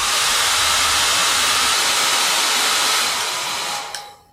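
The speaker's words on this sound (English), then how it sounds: "So I take a hairdryer and dry it." A hairdryer runs steadily, drying gel applied to the skin, a loud close continuous whoosh that cuts off near the end.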